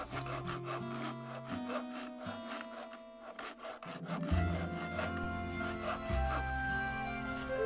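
Fret saw cutting holes in a thin floor plate for an old Katsumi KiHa 82 model train, heard as rapid rasping strokes over a background of music, close and steady.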